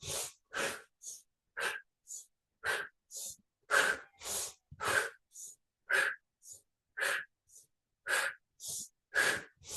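Deep, forceful breaths in and out during a guided grounding breathing exercise, repeated in a steady rapid rhythm of about twenty sharp, close bursts with brief silences between.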